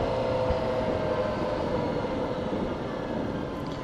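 Motorcycle engine running steadily at close range, a dense broadband rumble with a sustained tone, as the rider pulls in the clutch and shifts down from third to second gear; the note sags only slightly toward the end, with no speech.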